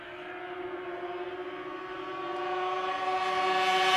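A Ski-Doo racing snowmobile at the Canadian Power Toboggan Championships in Beausejour, Manitoba, its engine holding a steady high-pitched drone that slowly builds in loudness as the sled approaches, with no talk.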